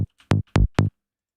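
Three punchy synth bass hits with the filter closed, giving a sharp clicky attack and a quick decay, close and loud, with brief gaps between them.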